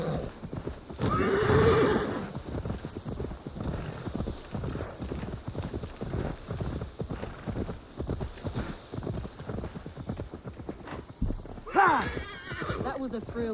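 A horse in the video game Assassin's Creed Valhalla whinnies near the start and again near the end, with clip-clopping hooves and someone talking through much of the stretch in between.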